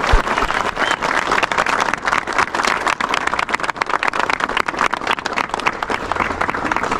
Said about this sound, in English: everyone in the Hall of Fame, let's give them a round of applause